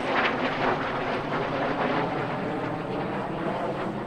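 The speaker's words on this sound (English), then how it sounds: "Great opportunity for you to get a picture of these iconic supersonic jet trainers right here." USAF T-38 supersonic jet trainers fly past at an air show in Orange County, New York, a loud, steady jet roar that peaks early and holds as the aircraft pass, with no talk heard.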